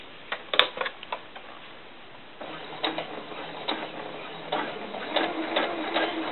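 A sewing machine back-stitches a seam on a small doll skirt, giving short bursts of clicking, ticking stitches with brief pauses, then a steadier, slightly louder run of stitching near the end.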